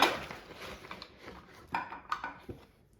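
Thin cucumber slices being dropped and shifted into a bowl in a home kitchen, a run of soft clatters and light knocks over about three seconds, close but quiet with no talking.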